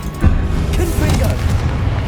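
Confringo explosive spell in Hogwarts Legacy sets off a short, heavy booming blast, loud and close, with a rumbling tail under mixed game sounds.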